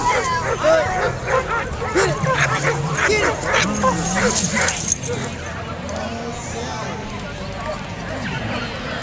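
Dogs bark, yip and whimper at an outdoor dog jumping event in Frankenmuth, Michigan, sharp repeated calls close by over a crowd's hubbub and commentary.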